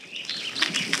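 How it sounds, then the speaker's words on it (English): Many birds chirp and twitter together in a lively, overlapping chorus with bright high calls, fairly close, on a morning where goldeneye ducks are present. "Now I'm just stopped to listen to all the birds."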